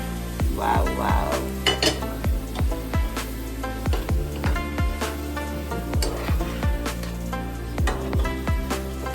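Cooked mutton tipped into a pan with ground masala paste for a dry mutton dish, sizzling steadily with repeated scraping and stirring clinks from a spatula against the pan, close and fairly loud, with no talk.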